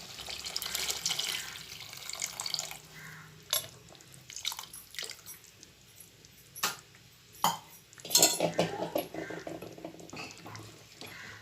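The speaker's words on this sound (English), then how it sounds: "I am adding the tamarind water." Tamarind water is poured into a simmering bitter gourd gravy, giving soft splashing and trickling bursts, with a few louder pours and utensil clinks close by.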